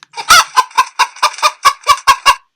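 A chicken clucks in a quick run of about ten short, evenly spaced, fairly loud calls, heard alone and up close.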